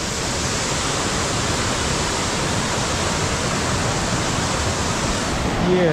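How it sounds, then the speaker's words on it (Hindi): Waterfall in a hidden gorge near Aizawl, water pouring over cut rock, a dense steady roar filling the whole clip at close range, with a brief voice at the very end. "ये रहा वाटरफॉल।"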